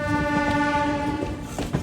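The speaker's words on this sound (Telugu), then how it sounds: "గూడూరు జంక్షన్కి ఎంటర్ అయిపోతున్నాం." MEMU passenger train entering Gudur junction, its horn sounding one sustained, loud, tonal blast over the rumble and clatter of the moving train, heard from aboard.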